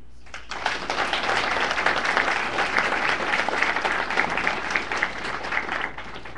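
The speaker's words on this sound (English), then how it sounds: "please join me in a round of applause for the honor graduates" A crowd applauds honor graduates at an Army ordnance battalion AIT graduation ceremony at Fort Lee, Virginia: steady, dense clapping that starts abruptly and holds at an even level throughout, with no talk over it.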